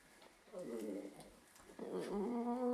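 A dog growls low in two short rumbling bursts, the second longer and louder, fairly close in a quiet outdoor setting at night.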